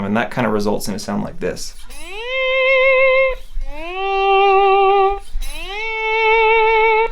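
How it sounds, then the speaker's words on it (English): An electric guitar slide glides up a long stretch of the fretboard while a volume pedal swells each note in, giving three smooth rising, fading-in tones after a short spoken line. "I'll slide up a large length of the fretboard, but I'll be swelling in the volume pedal at the same time"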